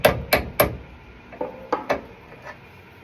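Sharp metallic hammer strikes on a drift knock out door hinge bushings on a 1970 Plymouth Barracuda 340: three quick loud blows, then several lighter, spaced taps, close up with no talk.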